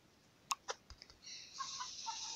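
Chickens in the Egg, Inc. mobile game give a few quiet, short clucks and chirps, then a brief run of soft, higher squawks, all close and faint with no talking.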